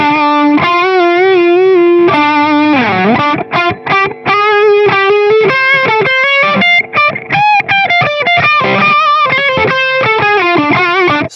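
An electric guitar played through a Boss OS-2 overdrive/distortion pedal on the bridge pickup plays loud, buzzy distorted notes and bends. The phrases are continuous, with brief palm-muted breaks.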